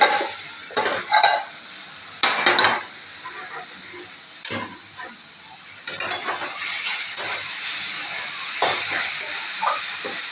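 A spoon stirs bottle gourd curry (lau ghonto with bori) in a hot pan, giving repeated scraping strokes over a constant sizzle and hiss of frying.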